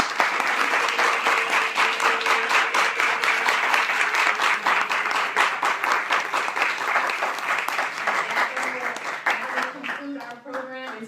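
Loud, sustained audience applause with dense clapping that continues steadily for several seconds before tapering off near the end.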